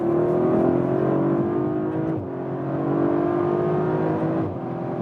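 An Audi RS5 or BMW M4 accelerates hard from inside the cabin, the engine note climbing steadily through the gears with two brief dips at the shifts, loud and continuous with no talking.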